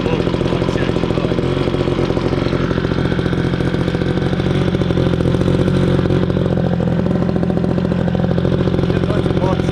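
A brand-new Homelite 2-cycle gas blower/vac engine runs at a fast, buzzing idle while warming up, loud and close throughout, with a person talking over it.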